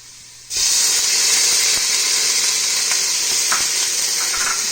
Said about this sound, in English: now that the garlic is starting to give off a fragrant smell, we add our onions